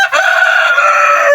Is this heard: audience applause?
no